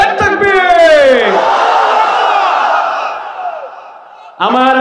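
A large crowd at an Islamic sermon gathering roars the takbir response in unison, one loud, sustained shout that slowly fades before a voice returns over a loudspeaker.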